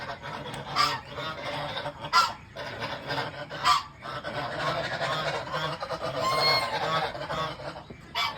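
A flock of meat ducks on a farm of about a thousand birds honks and quacks in loud repeated bursts, several calls overlapping against a steady background of softer flock chatter.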